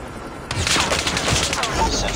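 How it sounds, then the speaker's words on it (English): A Call of Duty Mobile multiplayer match erupts into a dense burst of rapid gunfire, with a stealth chopper in the scene, loud and continuous after a brief quieter start. "Friendly stealth chopper inbound."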